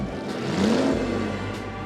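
Steve's car engine, standing in for a Ferrari, revs once in a short rising and falling sweep over a steady loud rumble.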